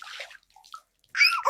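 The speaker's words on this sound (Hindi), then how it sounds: "अबे तेरी तो इतनी ठंड में कोई पानी डाल के जगाता है" Water splashes and sloshes over a sleeping man in two quick bursts, a short soft splash followed by a louder, brighter gush, with no talking.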